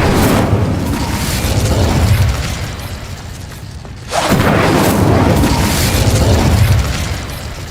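Incendio fire spell cast in Hogwarts Legacy, a loud dense burst of roaring flame that swells, dips briefly, then surges again into a sustained rushing blaze.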